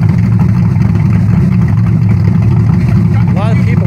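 Engine with an Anderson N41 cam and Spintech mufflers idling close by, a loud, steady, lumpy low rumble that runs without a break, with a voice briefly over it near the end.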